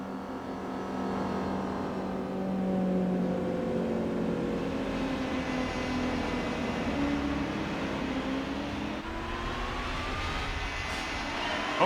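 A V8 or V12 race car engine in Gran Turismo 4 drones loudly and steadily, its pitch climbing and falling through gear changes as it accelerates, with no voices over it.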